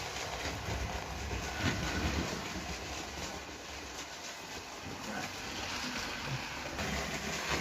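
A Bachmann Standard class 4MT model locomotive runs along its track, giving a steady low rumble and faint clatter that holds evenly throughout, fairly quiet and with no talking.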